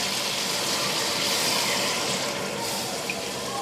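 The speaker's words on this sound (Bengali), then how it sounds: "এই পর্যায়ে আমি পানি দিয়ে দিব।" Water pours steadily into a pan of tengra fish curry, a continuous broadband rushing hiss that holds at an even level from start to finish, with no voices.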